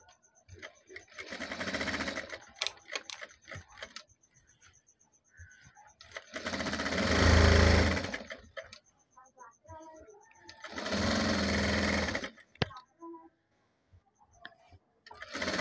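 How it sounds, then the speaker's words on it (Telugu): An electric sewing machine stitches a patchwork design blouse, running in three loud, steady whirring bursts of a few seconds each, with someone talking in the pauses between them. "ఇక్కడ పైన వచ్చేసి మనం పెద్ద కుట్టు వేసుకోవాలి"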